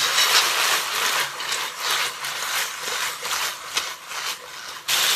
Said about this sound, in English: Add the fillet strips in.